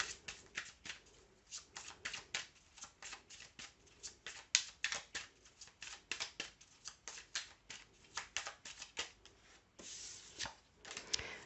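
A deck of oracle feeling cards is shuffled by hand, close soft riffling and flicking in a quick irregular rhythm, quiet and alone without talking.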